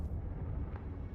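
A Confringo blasting spell explodes in the Hogwarts Legacy video game, a deep rumbling boom with a sharp crack near the middle, loud and close with no talk over it.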